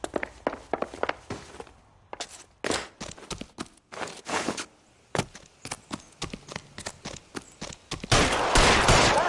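Gunshots in the L.A. Noire video game, a string of sharp individual shots spaced irregularly with short pauses between them, then a dense burst of fire at the end.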